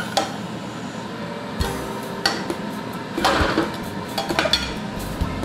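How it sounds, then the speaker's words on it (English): A pan of broccoli and garlic in oil being shaken and turned, giving clattering metallic knocks and scrapes of cookware at irregular intervals, close and moderately loud with no talking. "So you just turn them over and, you know, give them a shake so they get coated in the oil."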